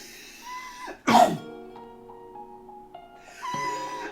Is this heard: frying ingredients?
no